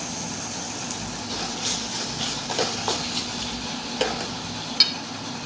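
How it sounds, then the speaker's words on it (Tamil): Tomatoes sautéing in a pan for a South Indian tomato chutney: a soft, steady sizzle with scattered scraping clicks of a spoon stirring, close and moderately quiet. "நல்லா வதக்கி எடுத்துக்கோங்க."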